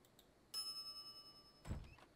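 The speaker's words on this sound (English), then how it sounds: "some idiot's already ringing that stupid bell" A counter service bell in the Monkey Island video game gives a single bright ding that rings out and decays, followed by a soft thunk, all quiet against near silence.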